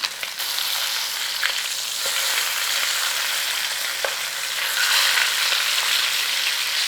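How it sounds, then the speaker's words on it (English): Meat searing in a hot pan for a country pub–style dinner, a loud, steady sizzle close by with a few brief clicks and scrapes, growing slightly louder toward the end, no talking. "we're just trying to put a little sear on there"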